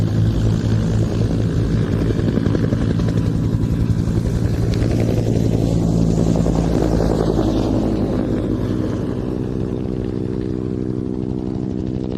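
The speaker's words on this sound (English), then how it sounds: "a short tactical takeoff for the Bronco" A Bronco turboprop aircraft roars through a short tactical takeoff at an airshow in Leszno, a loud, steady propeller and engine drone that swells and slowly shifts in pitch as it climbs away.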